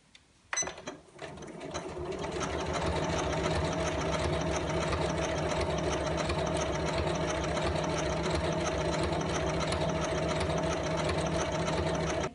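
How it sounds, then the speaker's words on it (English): A sewing machine stitches appliqué onto a lined shopping tote bag in one long, steady run at an even, fast pace, close and alone after a brief start. "So I'm just going to sew around this and I'll be back in a few minutes."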